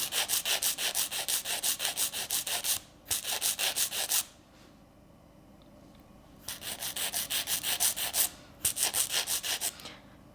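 A nail file rubbing back and forth across an acrylic nail tip in quick, even strokes, in two close-up bursts separated by a quiet pause, with no talking.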